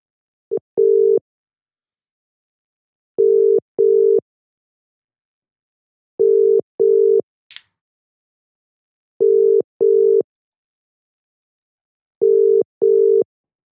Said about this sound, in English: Alan, I'm trying to call you.